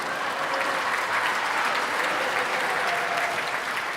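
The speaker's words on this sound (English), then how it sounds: "let's give them a scattered smattering of polite golf applause" Polite audience applause for an a cappella group's reunion performance, a dense, even wash of steady clapping without pause throughout.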